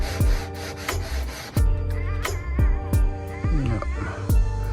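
Hand sanding of wooden racks: steady back-and-forth rasping strokes in a regular rhythm, close and fairly loud, with sharp knocks marking each stroke and no talking.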